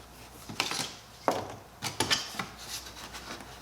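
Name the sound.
pulling off weather stripping on a Honda CR-V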